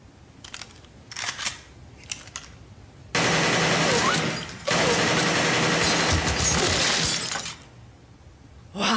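An AK-47 Kalashnikov rifle fires in short, sharp bursts, then two long, loud rapid-fire volleys, all close and harsh with no talk.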